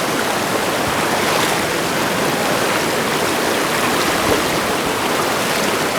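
River water rushing steadily over a crossing point in Sumatra, a dense, continuous broadband roar of flowing current, close and loud throughout with no voices.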